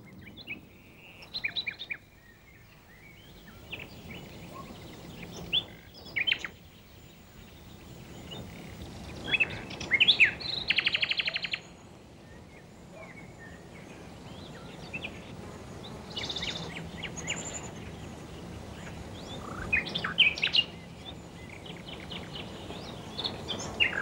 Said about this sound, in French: À la nuit tombée, loin dans la forêt, chante un rossignol.